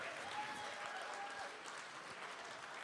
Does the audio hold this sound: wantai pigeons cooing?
no